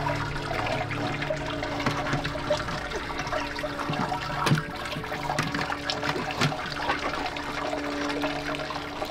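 Wort draining from a lifted grain basket during an all-grain homebrew of an English IPA from a Churchill Mk 1 kit, a steady, continuous rushing and trickling of liquid that stays loud throughout.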